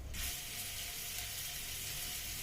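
Crushed garlic in a tablespoon of olive oil sizzling in a pan, making a steady bright hiss that runs the whole time, close up and fairly soft, with no talking.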